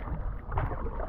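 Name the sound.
paddling a canoe on the Missouri River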